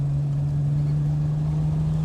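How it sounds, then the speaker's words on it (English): A Triumph TR6 engine growls steadily while driving, a deep constant low hum with a strong sustained tone, close and even throughout with no talking. "That engine's just a beauty, and it's got such a deep sort of sound to it, a deep growl."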